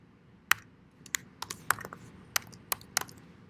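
A computer keyboard typing an email address into a web form, with about a dozen crisp, separate key clicks at an uneven pace, close and quiet against a faint room hush.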